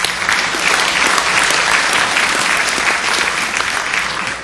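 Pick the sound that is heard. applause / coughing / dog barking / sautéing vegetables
applause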